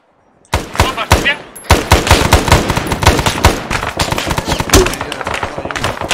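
Rapid automatic gunfire crackles in a Vietnam-era military simulation video game, dense bursts of close, loud shots erupting suddenly after a short silence and continuing in an uneven stream.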